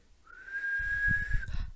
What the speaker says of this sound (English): out came a whistle